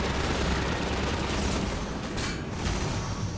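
Enemy gunfire in Half-Life 2, dense sustained bursts of shots and booms filling the scene at a loud level, alone without talk.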